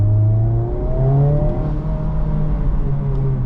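A Honda Civic Type R FL5 engine with a Spoon Sports intake filter drones and revs steadily up close, with rising and falling harmonic tones and a whooshing intake note, no voices.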